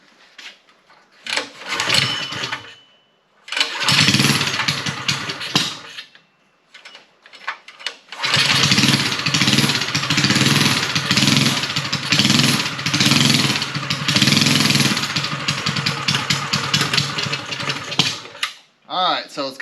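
A mini chopper engine, fitted with a stainless exhaust and a VM22 carburettor, is started with the choke on, catches after a few short bursts and then runs loudly with steady revving up close.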